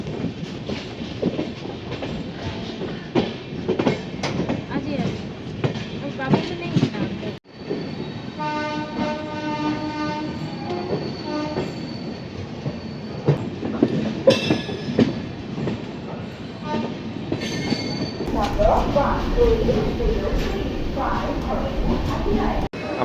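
Passenger train from Tatanagar running into Kharagpur station, a continuous rumble and rhythmic wheel clatter from inside the coach, with a horn blast, braking squeals and a voice speaking over it.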